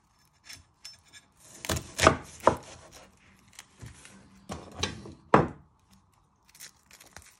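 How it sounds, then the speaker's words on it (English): A knife chopping the end off an onion on a board, a few sharp, close cuts and knocks spaced irregularly with quiet gaps, no talking. "And then you chop your other end off."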